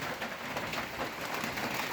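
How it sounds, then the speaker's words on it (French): Steady rain shower pours down just outside a small trail shelter in New Zealand, a continuous close hiss of falling water with no talk. "Heureusement j'ai trouvé ce petit abri pile poil au moment où l'averse a commencé à tomber."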